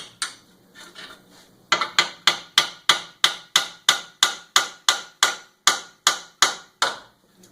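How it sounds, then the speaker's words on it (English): A household hammer taps metal repeatedly in a steady, even rhythm while removing parts during a Mitsubishi Outlander CV axle replacement, about fifteen sharp ringing strikes after a few quieter knocks at the start. "I'm just going to use a household hammer, is what I have, and tap these two out of here"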